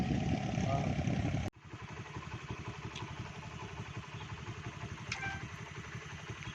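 A motorcycle engine idles and runs close by on a village road in the Gujranwala area, a low steady rumble with faint clatter, after a brief loud burst that cuts off abruptly at the start; voices murmur in the background.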